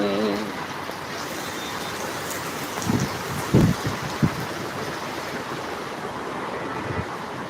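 Heavy rain pours in a dense, even hiss that masks everything, broken by a few short low thumps near the middle.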